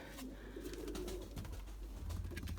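Young Erzurum white pigeons coo softly and repeatedly over a steady low background hum, with the calls sounding close and continuous and nobody speaking.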